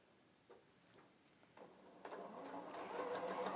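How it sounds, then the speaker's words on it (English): Domestic sewing machine stitching a quarter-inch seam, faint ticking at first, then the motor whirs up into a steady, building hum nearby. "I'm just going to sew 1/4 of an inch seam."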